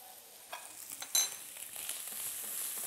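Chinese cabbage frying in hot oil in a pan, a faint steady sizzle that builds gradually, with a few light clinks and stirring scrapes near the start.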